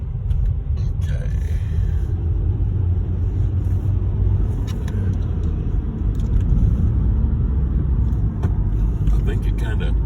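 Steady low rumble of busy road traffic in a tornado-damaged area of Griffin the day after the storm, continuous and fairly loud throughout, with voices faintly present.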